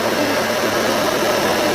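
Motorcycle engine droning steadily and loudly while riding at night through the streets of Sengkang, a continuous close hum with wind-like broadband noise and no talking.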